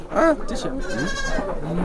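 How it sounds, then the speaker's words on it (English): A four-month-old Merino sheep on a mixed farm gives a short, close bleat, followed by people talking nearby. "Merino sheep."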